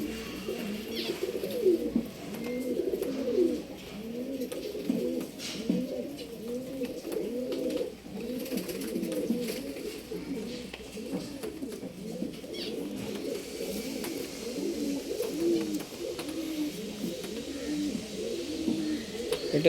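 Female Dooma pigeons with short beaks, offered for sale in Bangalore's RT Nagar, coo steadily and close by in overlapping rolling phrases for the whole stretch, with no voices over them.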